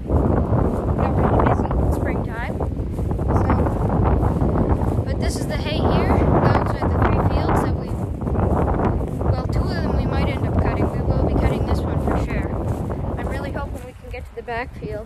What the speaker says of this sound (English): as you can see, it's really windy here, my hair is blowing everywhere